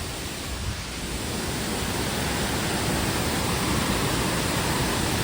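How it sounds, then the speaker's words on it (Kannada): Rushing water pours down a waterfall in a steady, dense roar that stays loud and unbroken throughout, with no voices over it. "ಫುಲ್ಲು ನೀರು ಸೌಂಡ್ ಅದೇ ಕೇಳಿಸ್ತೈತೆ ನೋಡಿ"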